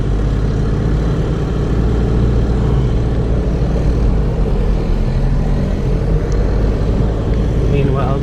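A car drives along a road near Digos City in Davao del Sur, Philippines, its engine and road rumble a loud, steady low drone from inside the cabin throughout, with voices talking over it.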